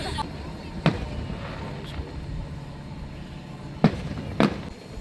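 Fireworks bursting on the 4th of July, heard as a few distant sharp booms spread across the moment, over steady background rumble and faint murmur.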